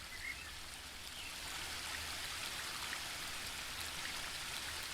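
Fresh water pours into a bird bath in The Book of Unwritten Tales 2, a continuous soft splashing trickle that holds steady for several seconds with no voices.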